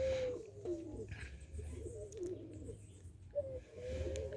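Capuchine pigeons cooing in a loft, soft repeated throaty coos over a low rumbling hum, several calls spread across a few seconds, fairly close and without talk.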